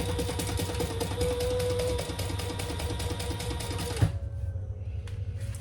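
A sewing machine top-stitches the folded edge of a fabric backpack, running with a steady fast mechanical whir and rhythmic needle clatter, then stopping abruptly near the end with a brief clunk.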